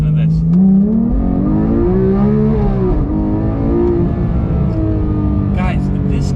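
A Porsche 911 GT3 Touring sports car engine revs and climbs in pitch, then settles into a deep throaty drone, loud and close, with a brief burble near the end.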